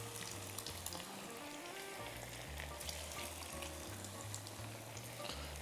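Sausage sizzles and spits steadily in a hot pan, a continuous crackling fry with faint clinks in the background and no talking.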